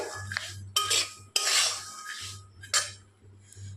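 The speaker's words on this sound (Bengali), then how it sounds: "এরকম করে নেড়ে নেড়ে দশ সাত আট মিনিট ভেজে ভেজে" Peanuts frying with salt in a pan, stirred with a metal utensil: several separate scraping and rattling strokes against the pan, near and moderately quiet, with pauses between them.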